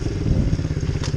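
An MRF pit bike revs up from a start with a loud, close, rattling engine chug that rises quickly over about a second.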